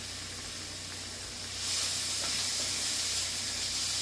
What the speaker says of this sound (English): Now we're just going to add our minced garlic and seasonings, which is just some Italian seasoning that I'm adding to this